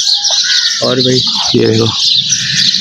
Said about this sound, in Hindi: कैसी चिड़ियों की आवाज़ है, और कितना अच्छा माहौल।